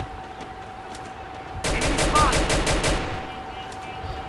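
Sniper rifle fire in a Bangladeshi-voiced online shooter game, heard as a sudden loud burst of rapid, evenly spaced shots lasting over a second, then fading into background noise.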